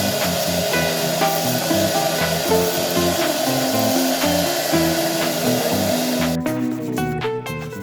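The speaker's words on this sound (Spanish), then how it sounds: "con gomita negra abrasiva, rectificamos todo el interior sin dejar ningún rastro de nada." A rotary tool fitted with a black abrasive rubber wheel grinds the inside of a piece of jewelry. It makes a steady, close, whining buzz with shifting pitch and gritty scraping, then winds down sharply near the end.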